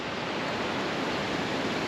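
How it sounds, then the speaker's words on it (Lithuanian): A small waterfall flows beside a mountain road in Romania or Bulgaria, making a steady, even rush of water that stays continuous with no breaks. "ten kriokliukas teka."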